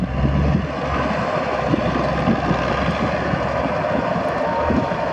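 A Kobelco SK200-8 excavator engine runs with a steady, smooth, close-up drone that stays loud and unbroken throughout, with no voices over it.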